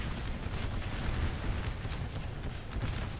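Artillery fire in a Gettysburg Civil War mod for Napoleon: Total War, a continuous heavy rumble of cannon blasts and distant booms rolling together at steady loudness throughout.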